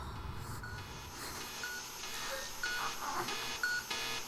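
A phone in the video game Persona 3 gives a series of short electronic beeps that sound like dialing tones, spaced unevenly over a faint background hum.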